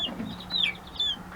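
Chickens and roosters in a flock clucking close by, a few short, sharp calls over about a second with a steady low hum underneath.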